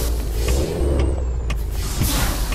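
A Ford Cargo bitrem truck brakes in Euro Truck Simulator 2 with a loud air brake hiss over a low engine rumble, heard close and without speech.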